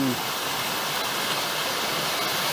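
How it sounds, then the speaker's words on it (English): Leggett Branch Falls on the Cumberland Trail pours in a steady, loud broadband rush of falling water, close and continuous, with the creek churning at the base and no voices over it. "This is Leggett Branch Falls. Beautiful waterfall."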